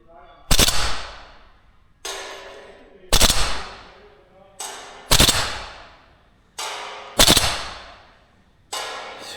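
A VFC AK105 gas blowback airsoft rifle fires five sharp full-auto bursts outdoors at a 60-meter target, each loud crack train separated by brief pauses.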